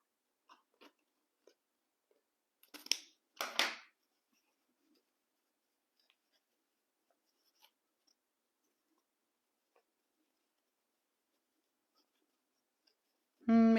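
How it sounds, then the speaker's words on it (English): Scissors snip off excess material on a handmade Christmas decoration with two crisp cuts close by, surrounded by faint ticks and handling clicks in a quiet room; a voice starts briefly at the very end. "So we'll snip that off here."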